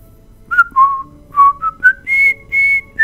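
A person whistles The Bridge on the River Kwai theme: a loud, clear melody of about eight short and held notes rising and falling across three seconds, with no talking.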